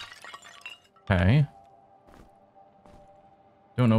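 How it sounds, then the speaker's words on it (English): Objects being smashed in the dungeon game Legend of Grimrock 2: two loud, crashing shatters a few seconds apart, with faint clicks and thuds between them and no talk. "Don't know why I'm smashing all the things"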